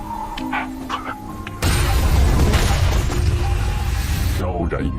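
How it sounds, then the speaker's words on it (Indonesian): A big bomb explodes in an Indonesian war film about a forgotten sniper: a sudden loud, sustained roaring blast that follows a quieter scene with faint sounds, then trails off into a rumbling tail. "Dan tidak lama, bom besar pun meledak."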